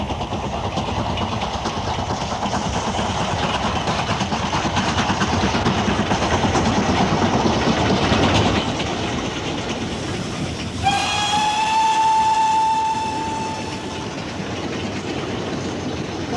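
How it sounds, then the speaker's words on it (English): A steam locomotive hauling a heavy train up a gradient, its exhaust beating steadily under loud rolling rail noise, then a long whistle sounding near the end. "It'll be a lovely sound coming out of the exhaust."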